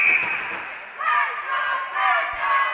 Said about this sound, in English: We got a crowd getting into it.